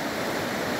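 A turbulent river rushing over stones, a steady, dense broadband roar of water close by, continuous and unbroken with no voices.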